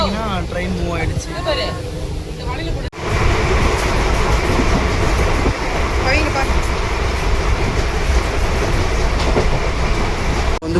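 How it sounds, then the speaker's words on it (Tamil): A passenger train rolls along the rails in Kerala, a steady loud rumble with rhythmic clatter filling the clip after a brief opening of voices and ambience. "இப்போ பார்த்தீங்கன்னா ட்ரெயின் மூவ் ஆகிடுச்சு."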